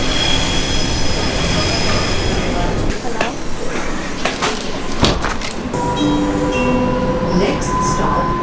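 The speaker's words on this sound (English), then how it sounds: "Gotta get on a train now to the airport" Commuter train ride from Central Station to the airport in Brisbane, with a steady rumble of the carriage, a squeal of wheels and clunks around the middle, and tonal hums near the end.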